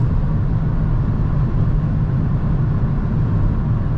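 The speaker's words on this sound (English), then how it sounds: "the tires are pretty noisy, or is it the car itself? I think lots of road noise" Tire and road noise inside a moving 2023 Hyundai Venue, a loud, constant low roar and rumble that fills the cabin without a break.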